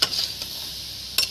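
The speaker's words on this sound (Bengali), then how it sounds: "দিয়ে বন্ধুরা এটাকে ফের আবার নাড়াচাড়া করব।" Chichinga (snake gourd) and potato curry, freshly salted, stirred in a pan: a steady close sizzle with soft scraping strokes and a sharper spatula scrape near the start and end, no voices.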